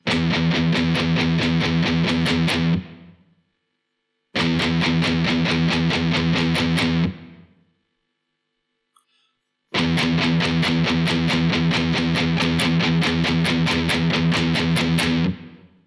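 Heavily distorted guitar plays quick, even triplet chugs in three loud bursts separated by short pauses.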